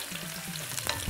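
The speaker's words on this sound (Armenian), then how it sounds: "Սունկը թող տապակվեն" Mushrooms fry in a pan with oil and butter, a steady close sizzle with faint stirring clinks and scrapes toward the end, no voices over it.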